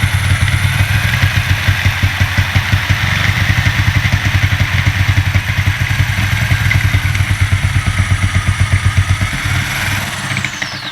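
A power floor scraper strips vinyl sheet linoleum, its motor running steadily with a rapid, rhythmic clattering chatter that stays loud and close throughout, with no talking.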